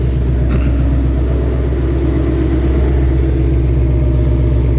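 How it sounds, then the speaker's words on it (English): A 2018-2021 Ford Mustang GT V8 with its exhaust in track mode rumbles loud and close, a deep steady throaty burble with slight swells and no speech. "Give it a few revs in quiet mode, normal mode, sport mode, and track"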